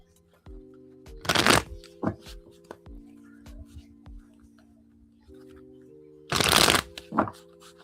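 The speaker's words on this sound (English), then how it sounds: "Okay, two more shuffles here." Tarot cards are riffle-shuffled close by in two loud bursts several seconds apart, with small taps and card handling between them, over a low steady background hum.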